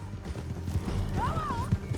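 Horse hooves clip-clop at a gallop in Red Dead Redemption 2, a steady run of low thuds under a brief whinny-like tone and faint game voices.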